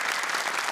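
Studio audience claps for a young Quran-reciting contestant and her father on an Indonesian TV show, a brief, dense burst of steady applause with no pause.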